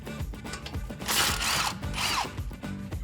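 A 10 mm bolt comes off the suspension of a Ford F150 under a ratchet, a close, brisk burst of ratcheting clicks and whirring in two bursts amid softer mechanical clicks and clatter.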